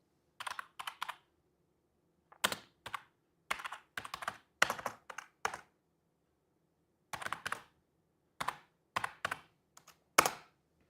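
Bursts of typing on a computer keyboard, with short clusters of crisp key clicks separated by pauses, close and fairly quiet against a faint steady hum, with no talking.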